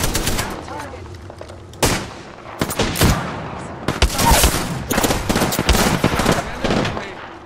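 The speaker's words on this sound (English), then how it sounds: "Team, guys shooting from behind." Gunfire in the Apex Legends battle royale game, loud bursts of automatic and single shots coming in rapid clusters, with a brief quiet gap near the start.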